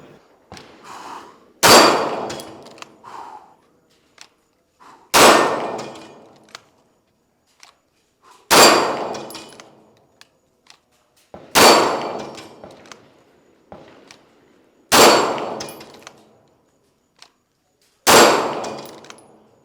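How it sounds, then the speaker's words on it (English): Six pistol shots ring off steel target plates one after another, each a loud sharp crack with a ringing metallic clang that decays before the next, spaced roughly three seconds apart in a steady cadence with quiet between. "Six shots, 6 plates down."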